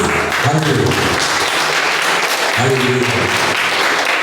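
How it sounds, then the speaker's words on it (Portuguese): Worshippers at a Portuguese-language church service clap together in loud, sustained applause, with a voice calling out over the clapping at times. "Aplauda o Senhor Jesus."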